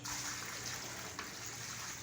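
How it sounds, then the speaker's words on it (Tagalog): Water splashing and gushing steadily, as if poured from a container, in a room being tiled, with a faint hiss over a quiet background. "Buhos niyang tubig."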